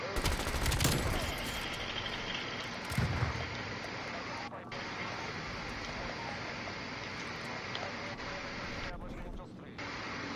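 Rapid tactical rifle gunfire in the video game Call of Duty Cold War, with dense bursts of shots early on, then a busy, steady wash of game noise, with short gaps near the middle and end.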